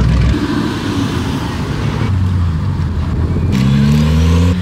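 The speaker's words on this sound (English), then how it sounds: "Here goes the two GTRs. There's the R32 and the R35." Two Nissan GT-R sports cars, an R32 and an R35, drive past at a car show, their engines rumbling loudly nearby, with a rising revving tone joining near the end.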